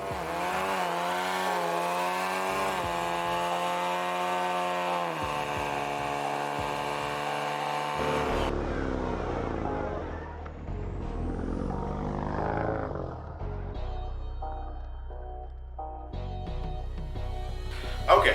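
A Ford Mustang EcoBoost with a Flowmaster Outlaw quad-tip exhaust runs steadily with a loud, droning engine note, then shifts into rougher revving and rumbling with abrupt level changes.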